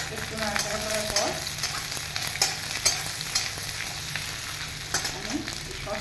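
Chilli egg sizzling and frying in a pan while being stirred, a steady hiss with scattered scraping clicks of the spatula, close and moderately loud, no talking.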